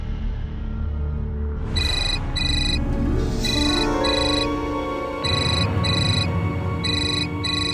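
A phone's electronic ringtone trills in repeating bursts of bright pulsed tones over a dramatic TV-drama music bed, loud and close, with no one talking.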